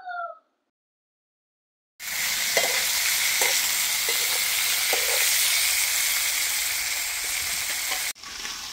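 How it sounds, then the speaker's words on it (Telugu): Drumsticks fry in a mustard, cumin and garlic tempering, a steady close-up sizzle with light stirring clicks that starts after a short silence and runs until an abrupt cut. "ఈ తాలింపు వేగుతూ ఉంటుంది।"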